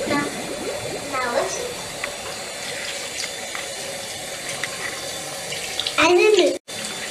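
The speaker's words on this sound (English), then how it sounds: "That's how you wash your hands." A tap runs steadily into a sink during handwashing, a close continuous rush of water with a voice speaking briefly over it and a short pause near the end.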